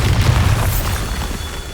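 A Bombarda blasting spell in Hogwarts Legacy goes off in a loud, deep boom with a crackling burst, quickly fading into a rumbling tail.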